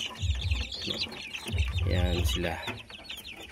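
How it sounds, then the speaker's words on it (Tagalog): Three-week-old chicks cheep and cluck in short, close bursts while someone speaks over them in Tagalog. "Yan guys, so very healthy mga chicks."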